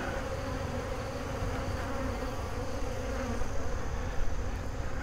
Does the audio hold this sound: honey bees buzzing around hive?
yes